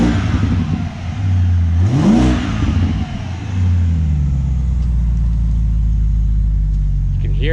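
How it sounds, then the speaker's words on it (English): A 2010 BMW 550i M-Sport with an aFe intake cold-starts: a starter whine and a sharp rev flare, then the engine settles into a loud, steady low idle rumble, up close. "And this is a cold start."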